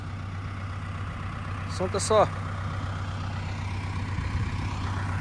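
An LS 80 tractor with a front loader runs steadily at idle while working in a marsh, a constant low engine drone throughout, with a brief spoken phrase over it midway.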